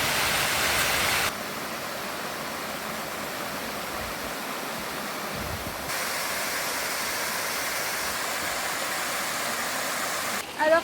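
A small mountain river rushing over slippery stones near a lagoon, a steady close broadband wash of flowing water that shifts in level at a few points as the crossing goes on.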